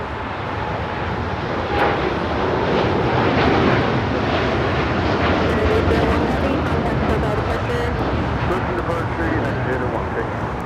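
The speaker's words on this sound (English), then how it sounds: "the United Dreamliner about to rotate off 25 right" United Boeing Dreamliner powering down runway 25 right at LAX on its takeoff roll, a loud continuous jet roar holding steady throughout, with a commentator talking over it.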